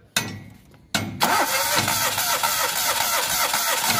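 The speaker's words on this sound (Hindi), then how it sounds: "ज़्यादा सेल्फ मारने से राउंड ले रही है लेकिन इंजन स्टार्ट नहीं हो पा रहा है" A Maruti Alto LXi petrol car cranking without starting: two short starter bursts, then a longer sustained whirring crank with rhythmic pulsing, loud and close.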